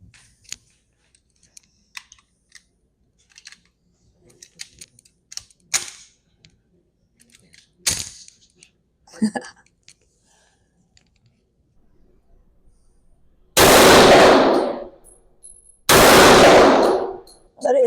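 WWII Japanese Nambu pistol fired twice at a range, two loud sharp reports a couple of seconds apart near the end, preceded by quiet metallic clicks and handling noises.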